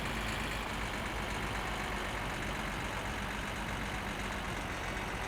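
A car engine idles in the video game My Summer Car, a steady low rumble that holds an even level throughout with no voices.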